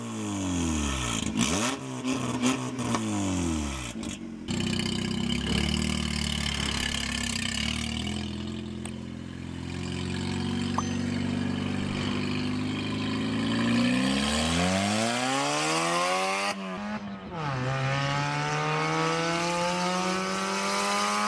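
A Fiat Palio engine and exhaust running with its catalytic converters removed, heard alone and close: loud idling punctuated by several rising and falling revs, each swelling into a harsh roar and then settling back down.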